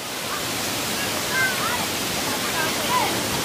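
The Ranajileda waterfall in Araku Valley pours as a steady, broad rush of falling water. Faint chirps and voices rise briefly above the constant roar.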